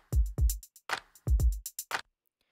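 Programmed drum beat in Ableton with both kicks at full velocity: punchy, booming kicks in pairs alternating with sharp snare and hi-hat hits, a short dry pattern played twice.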